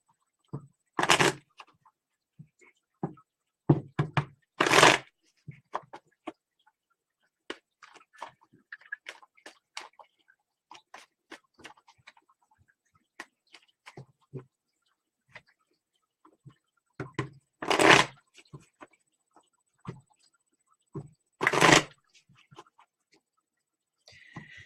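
Playing cards being shuffled, heard as a few sharp, loud riffling bursts separated by quiet stretches with small soft clicks and taps, recorded close up.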